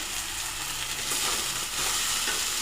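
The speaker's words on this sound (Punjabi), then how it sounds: "ਹੁਣ ਆਪਾਂ ਇਦਾਂ ਪਿਆਜ਼ਾਂ ਨੂੰ ਭੁੰਨ ਲੈਣਾ ਸਵਾਰ ਕੇ" Finely chopped onions frying in a pan for a Punjabi onion-and-milk curry, a dense crackling sizzle with scraping stirring strokes, growing louder partway through.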